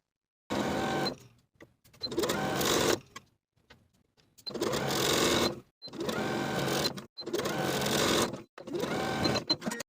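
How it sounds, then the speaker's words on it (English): Sewing machine stitching a sleeve into the armhole of a knit ballet wrap sweater using a stretch stitch, running in five or six steady bursts of a few seconds each, with short pauses between, close and clear with no talking. "Then I'll sew my sleeve into this armhole with a 3/8 inch seam allowance using my stretch stitch."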